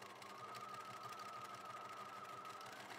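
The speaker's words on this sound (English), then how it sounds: "I'm actually going to start sewing from the middle out and it's going to flatten it as" Sewing machine stitching through fabric during a fabric slashing textile technique, a faint steady mechanical whir with a constant tone running evenly for the whole moment.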